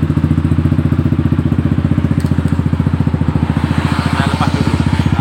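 A motorcycle fitted with a new voltage regulator idles steadily after starting, its single-cylinder putter loud and close, with a fast, even pulsing rhythm throughout.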